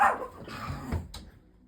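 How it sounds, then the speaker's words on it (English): Dog barking in the background of an indoor space, a couple of short barks with a yip, moderately loud and fading out, with no talk over it. "I'm sorry about my dog barking in the background."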